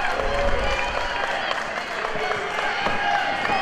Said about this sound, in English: The crowd very much into this match